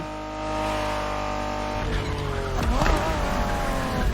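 A Honda NSX, a 1990s sports car, drives in the racing video game The Crew Motorfest, its engine droning steadily with a rising, shifting tone and some tire noise, loud and close with no talk.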